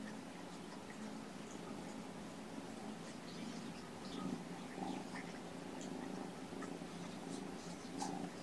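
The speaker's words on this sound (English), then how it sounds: "The purring is so loud." Soft, steady purring of a kitten, close and continuous with a low rumbling rhythm, quiet throughout.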